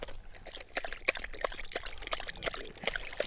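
Water trickles and dribbles from a desert spring in Arizona, a quiet, irregular patter of small splashes heard close up with no talking.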